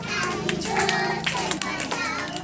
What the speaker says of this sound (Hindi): ताली जोर से बजाओ।